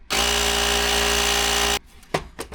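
Electric pump inflating a wheelbarrow tyre with air, a loud steady mechanical buzz running for under two seconds before cutting off abruptly, followed by a few faint handling knocks.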